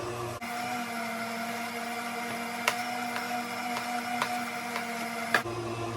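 A KitchenAid stand mixer running a Kitchtree fruit and vegetable strainer attachment on tomatoes gives a steady, close motor hum with a few sharp clicks as the tomatoes are pushed through.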